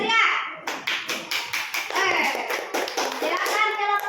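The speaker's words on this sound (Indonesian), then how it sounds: "Kasih tepuk tangan yang meriah." A classroom group claps for presenters, with quick irregular hand taps and claps close by, mixed with children's voices talking over the clapping.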